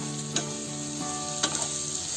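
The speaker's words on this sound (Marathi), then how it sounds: "आता थोडा कांदा फिरवून घेते" Finely chopped onions sizzle and fry in hot oil in a kadai, a soft continuous crackle broken by a few sharp scrapes of stirring, with no voices.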